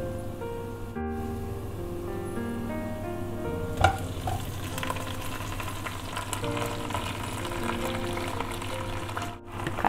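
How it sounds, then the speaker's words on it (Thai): Wild garlic is stir-fried with oyster sauce in a wok, giving a continuous sizzle and frying hiss with scraping stir sounds, over a steady hum from a running kitchen extractor fan. "ผัดกระเทียมป่าไว้กินเล่นนะคะ"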